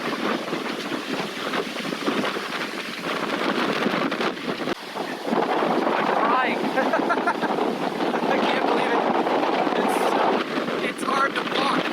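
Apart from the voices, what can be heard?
storm waves breaking over rocks in strong wind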